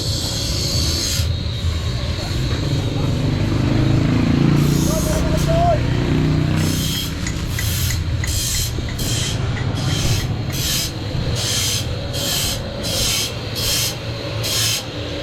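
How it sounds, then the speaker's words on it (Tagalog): Rhythmic rasping strokes of a file sharpening a saw, steady and repeated, over busy street traffic noise and nearby talking. "pahasa ko lang yung Lagari."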